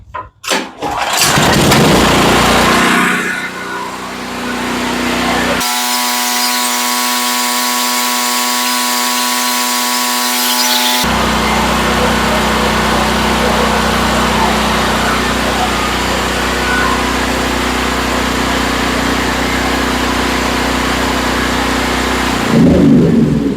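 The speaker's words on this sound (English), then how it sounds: "All right, so the engine ran without that circuit hooked up." A Generac GP8000E portable generator's small engine runs steadily and loudly throughout with a circuit disconnected, a rough, constant drone after a brief start-up and a short tonal hum partway through.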